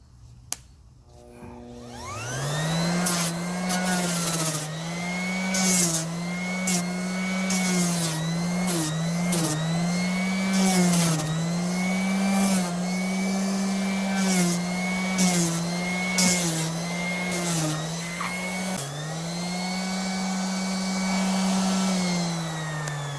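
Sanding a model part with a small power tool: a steady high motor whine that wavers in pitch as the tool presses into the piece, close and continuous, with faint clicks, no talking.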